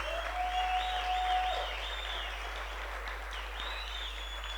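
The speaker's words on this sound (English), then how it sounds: "big round of applause" Audience applause for a dance ensemble piece choreographed by its members, a steady wash of clapping filling a hall with no voices over it.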